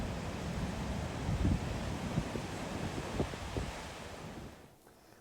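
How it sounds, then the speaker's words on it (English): Ocean waves wash onto the coast at high tide near Willapa Bay, with a steady roar of surf and wind buffeting the microphone, and a few sharper splashes rising from the churn before the sound drops away at the end. "A wave comes in, and then it reflects, and it meets the oncoming wave in a splash."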